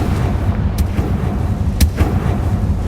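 Spell blasts in Hogwarts Legacy, a sharp crack with a long booming tail under a steady rumble of game ambience, plus a second fainter burst; no voices.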